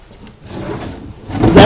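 Tight kitchen cabinet drawers drag open with a rough wooden scraping and rubbing, rising to a louder, harsher scrape at the end, close and loud with no talk.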